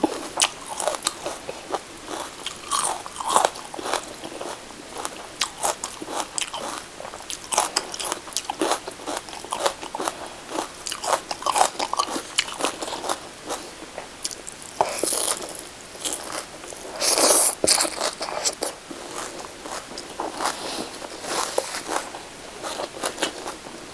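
Close, loud crunching bites and chewing of crisp fresh vegetables eaten with rice noodles, rapid irregular crunches repeating throughout with brief pauses between mouthfuls.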